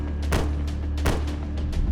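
Rapid shots from a single-action revolver emptying all six rounds: a quick, loud series of sharp booming cracks in under two seconds over a constant low rumble.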